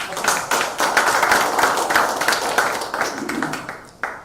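An audience in a lecture hall applauds to welcome a speaker, many hands clapping in a dense, steady patter at moderate loudness that thins out toward the end.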